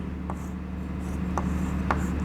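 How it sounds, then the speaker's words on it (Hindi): A pen scratches across paper while a full form is written out by hand in a botany lesson, soft continuous rubbing with a few brief sharper strokes, close and quiet, with no talking. "फुल फॉर्म भी मैं इसकी लिख देता हूँ"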